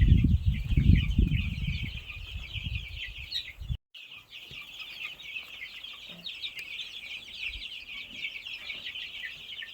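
Three-week-old village chicks cluck softly and busily while pecking at ketum ayam leaves, a steady scatter of small calls that carries on after a brief loud rustle near the start and a short break in the sound.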